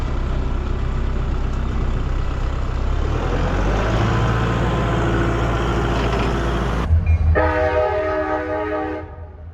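A short two-car freight train rumbles steadily close by, heavy and continuous, then a loud horn blares near the end as the sound starts to fade.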